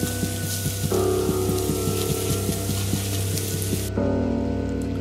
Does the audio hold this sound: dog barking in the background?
no